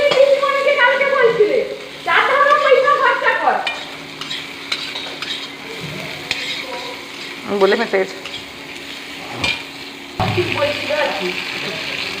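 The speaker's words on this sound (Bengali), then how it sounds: "তেল গরম করে ফোড়ন দিয়ে দিচ্ছে" Whole spices tempered in hot oil for a curry in a home kitchen, a close sizzle and spluttering with scraping stirs and a few sharp clinks, while voices talk and chirp intermittently in the background.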